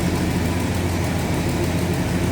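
Warmed-up 1970 Oldsmobile 442 V8 idling steadily off high idle, a continuous low rumbling engine drone heard close with no talking.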